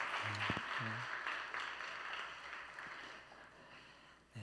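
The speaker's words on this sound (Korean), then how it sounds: "우리 감사의 마음으로 우리 함께 같이 박수하겠습니다." A young adults' church congregation at a worship service claps together, a soft, diffuse wash of applause heard at some distance, with a brief voice at the start, fading steadily over a few seconds.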